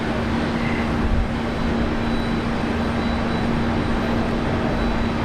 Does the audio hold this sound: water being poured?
no